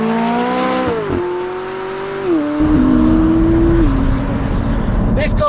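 A McLaren 570GT engine accelerates hard, its note climbing through gear changes with rising drone and rough rasp, heard from inside the car, loud and close.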